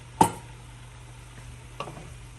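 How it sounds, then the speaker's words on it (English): Sauce stirred into a pan of vegan vegetable chow mein with tender broccoli, giving a soft sizzle and two brief utensil scrapes over a steady low hum. "Stir it, mix it well."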